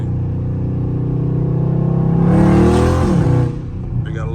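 Catless Dodge Scat Pack revving hard in a close fly-by, the engine droning steadily before swelling into a loud roar as it passes, then fading with a brief crackle; a voice murmurs faintly underneath.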